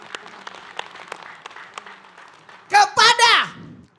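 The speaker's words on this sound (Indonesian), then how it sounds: "tepuk tangan buat Ibu Uis." Scattered, faint hand claps from a studio audience for a guest named Ibu Uis on a religious talk show, ending in a burst of loud voiced cheering close by.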